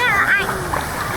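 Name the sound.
person jumping into water with a splash at a water park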